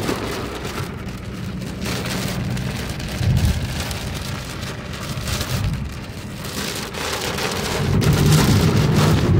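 Heavy rain pounds down in a dense, constant roar, swelling louder in waves with faint distant rumbles underneath.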